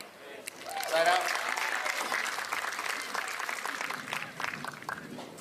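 Crowd applause ripples through the stands at a professional pickleball match at the Newport Beach Open, swelling quickly, then sustaining as a steady mass of clapping with a voice rising briefly early on.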